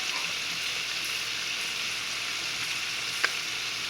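Onion and bacon cook down in a pan, giving a steady, close, even sizzle and fry that holds throughout with one small pop, no voices.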